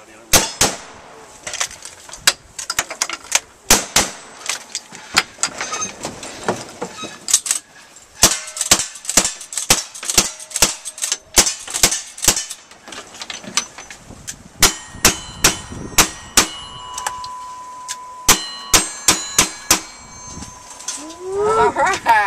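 Gunshots at a shooting match ringing off steel targets, a long series of sharp, loud cracks and metallic clangs in irregular clusters, some in quick rapid strings, with faint voices in the background.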